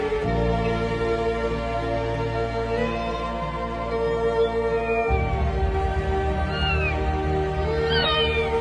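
A cat meows a few times, drawn-out and plaintive, heard over sustained tonal background music.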